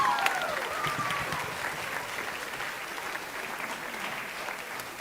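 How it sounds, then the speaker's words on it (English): Audience applause at a high school spring band concert, a steady wash of clapping held at an even level throughout, with faint speech underneath. "Let's give them a round of applause."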